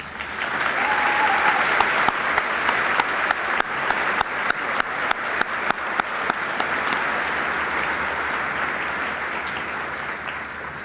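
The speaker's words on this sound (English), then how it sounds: "will you join me in giving them a round of applause?" Sustained applause from a large commencement audience honoring the college faculty and staff, dense and steady for about eleven seconds with a few louder individual claps standing out midway, fading slightly toward the end.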